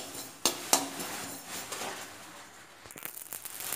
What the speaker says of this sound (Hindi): ऐसे ऐसे हमें इन्हें चलाते रहना है, बिल्कुल चलाते रहना है।